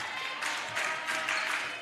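A varsity volleyball crowd in a school gym cheers and claps in rising bursts, a dense, reverberant roar swelling and easing over a couple of seconds.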